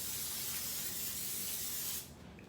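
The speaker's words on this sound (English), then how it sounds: "So spray them down with a little olive oil." Olive oil sprayed onto pizza bites from a spray bottle, a loud close continuous hiss lasting about two seconds before cutting off to quiet room tone.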